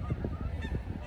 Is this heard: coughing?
no